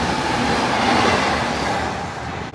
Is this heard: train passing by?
yes